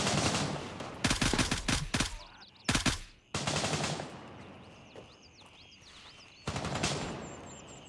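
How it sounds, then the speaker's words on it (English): Shotgun blasts in the tactical shooter Gray Zone Warfare near a hotel, loud booming shots in clustered bursts with sharp attacks, several separate volleys spread across the clip over steady background ambience. "That's a shotgun."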